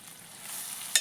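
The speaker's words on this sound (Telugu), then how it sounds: "టమాటాలు వేసుకొని కలబెట్టుకున్నాడు" Tomatoes stirred in a cooking pan while preparing a chicken dish, a soft sizzle and scraping throughout with a sharper scrape near the end, fairly quiet and with no voices.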